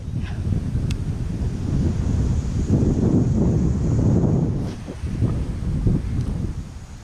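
Steady wind gusting across an open fishing spot while a light Carolina rig is cast, a continuous low rushing roar with microphone buffeting throughout and no voices.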